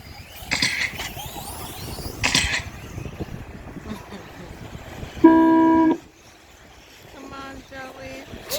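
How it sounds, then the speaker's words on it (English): A loud electronic start beep for an electric RC truggy A-main race sounds once, a steady held tone of about half a second, followed by a fainter series of beeps, with crowd noise and voices before it. "You guys are off at the sound of my beep."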